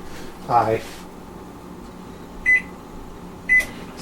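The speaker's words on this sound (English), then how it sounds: "set my butter in the microwave." A microwave oven runs to soften butter for Toll House chocolate chip cookies, giving a low steady hum with two short electronic beeps near the end and a brief sound near the start.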